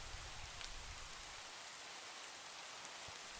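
Rain falls steadily in a Minecraft-style video game near a blast furnace, a faint, even patter with a few scattered droplet ticks throughout.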